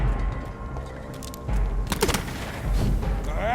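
A grenade blast and a burst of gunfire ring out in the game Vampyr: rapid crackling shots and a heavy boom, loud and close, with a sharp impact near the middle.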